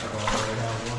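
A steady rushing wash of water from the main stream inside Petty Johns Cave, a continuous moderate flow with no pauses, faint and close, with no talk.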